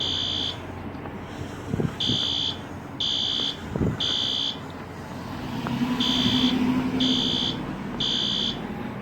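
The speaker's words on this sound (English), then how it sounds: "The alarm sounds like it's coming from this direction." Fire alarm sounding in a Hoboken street near an old post office building, a series of evenly spaced electronic buzzer blasts repeating over city traffic noise.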